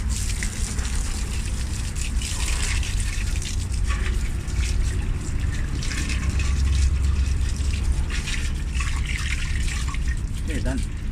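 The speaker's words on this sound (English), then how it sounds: "we're going to finally just rinse it off" A garden hose rinses a car wheel and rim, a steady loud spray and trickle of water running continuously and close by, with some background noise throughout.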